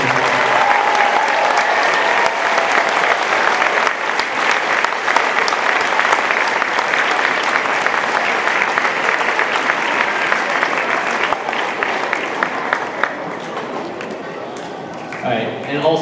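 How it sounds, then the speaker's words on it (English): A school audience applauds students after a middle school winter concert, a loud, sustained wash of clapping from a large crowd that carries on steadily before thinning toward the end. "can we have one more big round of applause for all our students and all our teams?"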